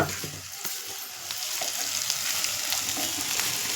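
Carrot halwa with sugar is stirred in a pan, a soft continuous sizzle broken by repeated spatula scrapes and clicks that grow steadier and slightly louder.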